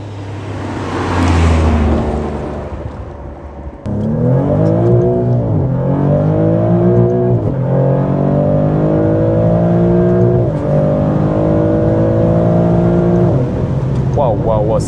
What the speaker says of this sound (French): Waouh, ça accélère déjà très fort.